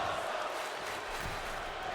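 A wrestling crowd in WWE 2K25 keeps up a steady, distant chant and roar, a dense wash of many voices filling the arena without a break.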